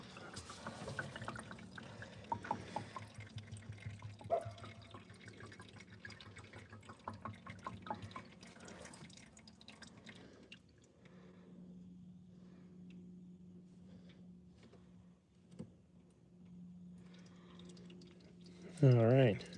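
Engine oil drains from a 2014 Dodge Journey, a soft trickle and drip of liquid running steadily into a pan, quiet and close, with a low hum and occasional talk.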